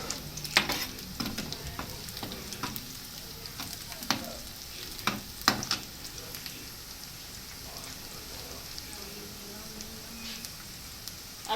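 Finely chopped garlic and pumpkin fry in a pan for a home-style pumpkin sabzi, giving a soft steady sizzle with scattered stirring scrapes and clicks, fairly quiet and without talk.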